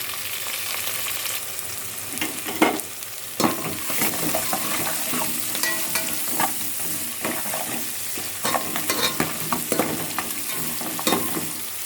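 Tomato rice ingredients fry in a pan with a steady sizzle, broken by repeated scraping stirs and clatters spread through the stretch, and no one speaks.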